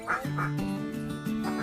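Laying ducks on a duck farm quacking steadily and close by, with overlapping nasal calls that repeat in quick, uneven bursts throughout.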